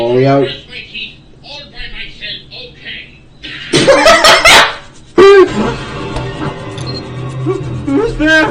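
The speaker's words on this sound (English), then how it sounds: "It's Egg Dog. Oh, my little Egg Dog. You're a good boy" Egg Dog, a cartoon dog from an SMG4 animation, gives a quick run of loud, close, yappy barks mixed with chuckling and talking voices.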